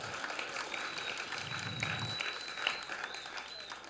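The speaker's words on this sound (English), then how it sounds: "Let's give him a round of applause," An evening storytelling-show audience applauds the host, steady continuous clapping throughout with a few scattered whoops, moderately close.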